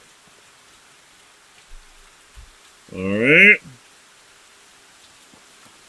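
Rain falls in the medieval village-building game Medieval Dynasty as a faint, steady hiss throughout, while someone speaks briefly in the middle.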